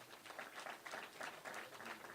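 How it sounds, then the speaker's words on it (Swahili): Applause for Nyandarua County MCAs at a party headquarters event in Nairobi: a steady, faint wash of many hands clapping from a distant crowd, continuing evenly throughout. "wapigieni makofi"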